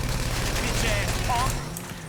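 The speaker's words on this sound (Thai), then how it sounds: "เดี๋ยวเรายิงชาวบ้านเล่นเพื่อเล่ตำรวจดีกว่าครับ" Rapid bursts of gunfire from a character shooting at pedestrians in the video game GTA V, loud and dense over a steady low game rumble, with voices talking throughout.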